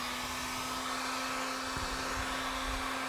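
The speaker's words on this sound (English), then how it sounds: "you're going to want to get your heat gun" A heat gun warms the adhesive behind an emblem on a 2017 Ram 1500, blowing a steady close whooshing roar with a constant tonal whine and no pauses.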